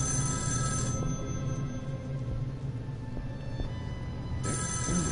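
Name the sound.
telephone ringing in the video game Erica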